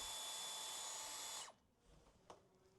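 A high, steady electronic whine from a Dyson hair curling tool cooling down drops sharply in pitch and cuts off, leaving near-silence broken by one faint click.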